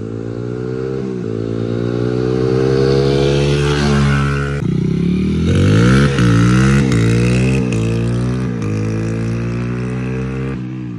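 A Honda CRF100 dirt bike running on E-85 fuel revs loudly up close, its engine rising and falling in several sweeping pitch climbs with a rough, buzzing exhaust note.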